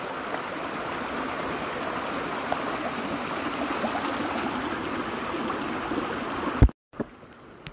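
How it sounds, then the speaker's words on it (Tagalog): A small mountain stream flows steadily along a hiking trail, a continuous close wash of water that cuts off abruptly near the end, leaving quieter background. "Paliit ng paliit ang sapa guys."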